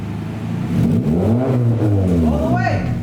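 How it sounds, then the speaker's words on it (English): A car fitted with an Invidia aftermarket exhaust revs loud and close, the engine note climbing and holding before easing off near the end, with voices faintly in the background. "Rev it!"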